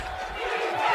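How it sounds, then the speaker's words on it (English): Crowd noise from a high school football playoff game, a broad distant roar of cheering from the stands that swells slightly over a brief moment. "Crowd cheering."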